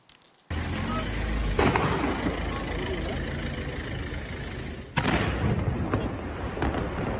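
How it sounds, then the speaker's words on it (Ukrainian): An explosion near a drone manufacturing company in Ankara: a sudden loud blast followed by a long rumbling roar, then a second sharp boom a few seconds later. "Тим часом у соцмережах шириться відео, нібито моменту вибуху."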